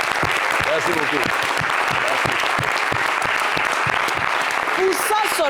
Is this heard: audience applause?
yes